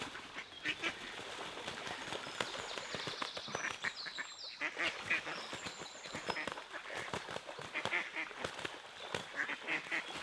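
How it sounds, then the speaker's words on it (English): Ducks fight and quack outdoors, a busy stretch of harsh honking calls and splashy scuffling at moderate distance, fairly faint and steady throughout. "Ducks are fighting though."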